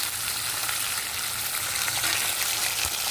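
Prawns and a lote fish frying in hot oil, a continuous close sizzle and crackle with faint stirring, steady throughout without talk.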